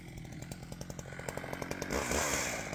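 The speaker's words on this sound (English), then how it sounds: "while Joe started cutting his wedge on this one" A chainsaw bites into a tall tree while cutting the felling wedge in the Alaska wilderness, with a steady engine drone and rhythmic chain pulses that swell louder toward the end.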